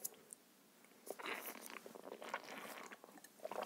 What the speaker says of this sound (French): ça fait un petit peu de bruit quand vous buvez, un petit bruit d'aspiration lié à la paille